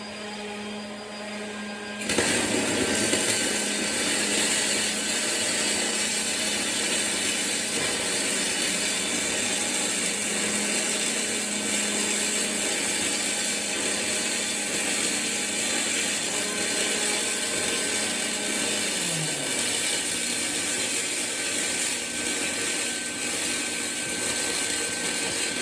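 Steel lap joint being fused by torch welding, a steady broadband hiss and crackle starting abruptly after about two seconds and holding evenly loud and close for the rest of the run.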